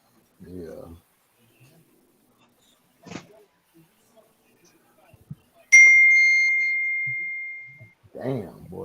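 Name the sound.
phone message notification ding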